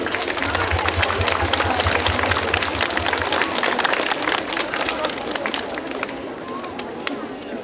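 Applause greets first-graders at a school ceremony on the first day of the school year, a steady clatter of many hands clapping, fairly loud and continuous, easing off slightly toward the end.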